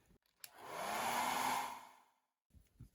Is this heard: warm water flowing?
no